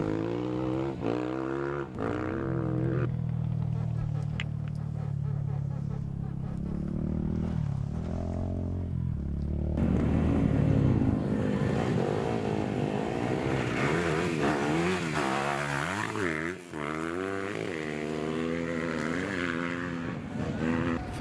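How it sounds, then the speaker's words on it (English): A motorbike revving and sliding through loose sand on dry riverbed jeep tracks during the Tankwa rally, its engine roaring and rising in pitch in continuous, varying bursts up close. "just sliding the bike all over the place."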